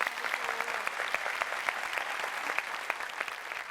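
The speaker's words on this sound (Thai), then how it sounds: "ขอเสียงปรบมือให้กับคุณครูด้วยนะฮะ" Steady applause from a television studio audience, dense clapping throughout with a few sharper claps standing out.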